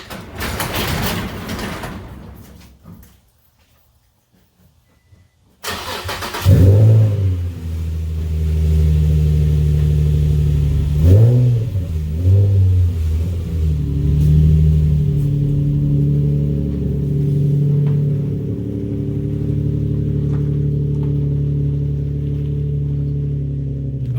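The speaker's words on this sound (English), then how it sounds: "I'm going to fire this bad boy up, let it warm up" A Nissan G35 engine cranks and fires up after a burst of handling noise and a short silence, then revs briefly and settles into a loud, steady idle rumble while warming up.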